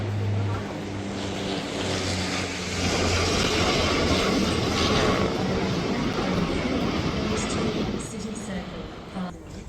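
A train rolls past at Town Hall station in Sydney, a loud rumbling roar that swells through the middle and eases off near the end, with a voice talking over the start.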